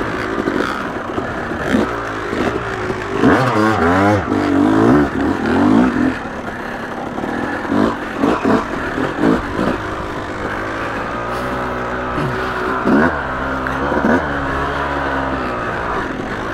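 Yamaha YZ250 two-stroke dirt bike, ported for bottom-end power, ridden along a technical trail, its engine rising and falling in repeated revs and blips, close and fairly loud throughout.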